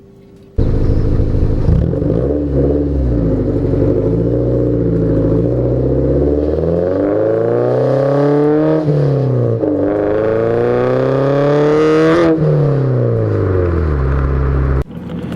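A 2001 Toyota MR2 Spyder with about 120,000 miles pulls hard through the gears while driving, the engine note rising and falling in sustained loud revs with shifts, heard close from inside the car with no talk.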